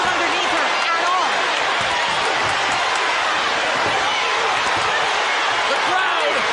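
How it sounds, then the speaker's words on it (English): Boxing arena crowd roaring in Flint during a women's title fight, a dense continuous wall of cheering with commentators talking over it. "The crowd is going wild here in Flint."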